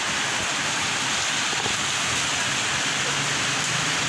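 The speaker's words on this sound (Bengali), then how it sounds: "শহর জুড়ে বৃষ্টি নামতেছে" Heavy rain pouring over a city, a dense, steady hiss of drops on surfaces that fills the whole stretch at close range.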